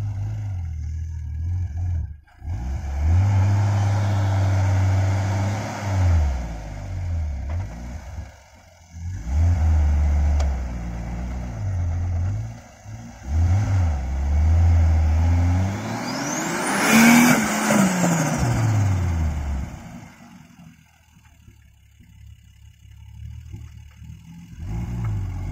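A Nissan Safari with a TB42 turbo engine revs hard while stuck in sand, rising and falling in repeated loud roaring surges, with one high climbing whine near the peak before the engine settles lower.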